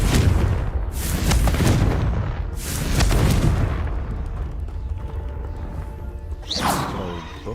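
In Hogwarts Legacy, explosive spells burst in quick succession: several loud booming blasts with crackling debris, then quieter rumbling and a final whooshing burst near the end.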